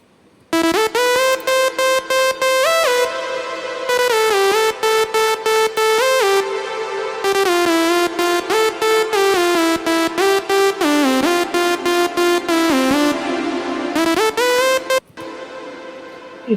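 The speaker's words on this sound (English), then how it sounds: "for the drop, I have used just two layers of lead" A solo synth lead layer from an electronic music drop plays a bright, steady melody of bouncy repeated notes and pitch slides, loud and continuous.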